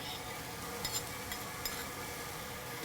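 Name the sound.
stirring tomato paste and chili pepper paste into sizzling filling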